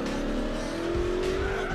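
Race car in Gran Turismo 4 braking hard and late, a sustained tire squeal rising over steady engine drone, loud and close throughout.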